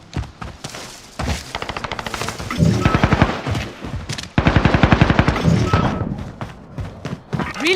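Automatic gunfire from a Black Ops 6 match, bursts of rapid rattling shots separated by short gaps, loud and close, with a few heavier thuds.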